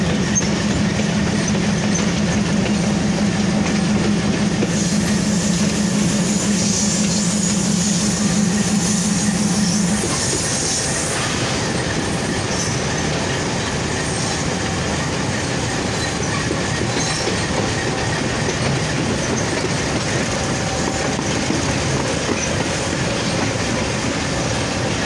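A metre-gauge Titumir Express train at Parbatipur Junction, with a steady rumble of wheels and carriages on the rails, louder and more tonal in the opening seconds and then settling into a continuous rolling noise.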